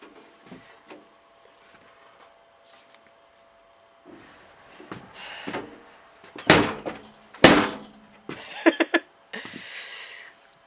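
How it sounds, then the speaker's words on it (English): Car door being slammed shut twice against a thick new aftermarket door seal, loud sharp thuds with rattling after quieter handling clatter. "You're probably gonna have to really slam your door."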